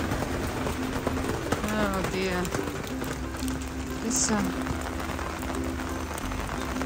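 Heavy rain pours steadily on a road while people walk uphill through an old town in Sertã, Portugal, with a broadband hiss throughout and a voice speaking briefly over it.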